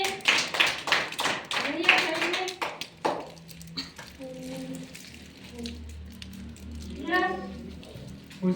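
A small group of people claps in a burst of sharp, close, irregular claps that fades out after about three seconds, followed by people talking in a room.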